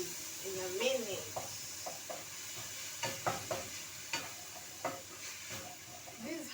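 Meat being stirred in a cooking pot, with soft scraping and clinking strokes recurring irregularly over a low background sizzle, a voice talking briefly near the start.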